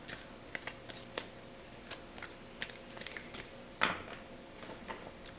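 Tarot cards being handled and shuffled, soft scattered flicks and taps with one sharper snap near the end, quiet and close with no voices.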